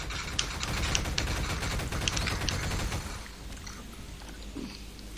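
Rapid gunfire bursts in a Garry's Mod match, dense crackling volleys for about three seconds that then thin out into scattered quieter shots.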